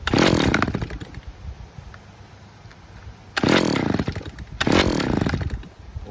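A Stihl petrol trimmer being pull-started on choke: three loud bursts of rough engine noise, one at the start and two close together later, each dying away, with quiet gaps between.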